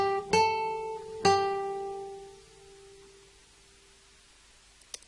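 Single guitar notes from Jingle Bells picked on the first string during a beginner lesson, two clear plucked tones ringing out one after another and decaying, then a faint click near the end.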